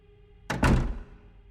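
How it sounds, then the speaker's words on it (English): An apartment door swings shut with a single solid thunk and brief rattle, close and fairly loud, followed by quiet room tone. "swinging the door shut"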